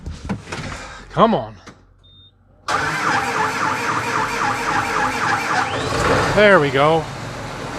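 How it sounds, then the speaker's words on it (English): A farm tractor engine cranks, sputters and catches, then settles into a loud, steady idle with a rhythmic pulsing throb; someone speaks briefly just before it fires. "Alright, we're going to try our tractor again."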